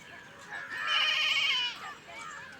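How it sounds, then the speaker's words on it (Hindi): Goats bleat while grazing under a shady tree, one long wavering call rising and falling, fairly close, with fainter bleats after it and no clear talk. "अब इन लोग की भी बकरी आएंगी, लोग भी बकरी लेके आ गई हैं"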